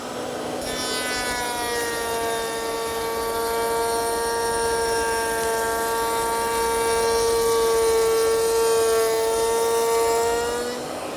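A router mounted in a deluxe router station cuts wood while the dust collection system runs, a loud steady high-pitched motor whine with a rushing airflow drone that swells slightly midway.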